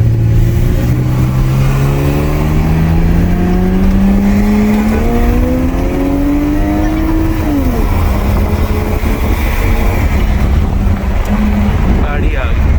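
Toyota Mark X and Mark II cars race side by side, engines loud and close with steady rising revs that climb, drop at a gear change, and continue amid wind noise, with people talking faintly underneath.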